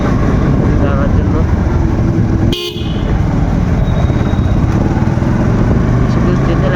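A motorbike ridden on a cold morning gives a loud continuous engine roar with heavy wind rumble, and one brief sharp break partway through.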